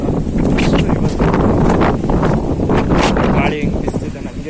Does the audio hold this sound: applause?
no